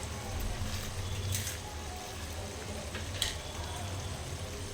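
Spices sizzling in separated oil for Mehsana-style dungaliyu, an onion dish, giving a steady close hiss with occasional louder crackles and spits and no voice over it.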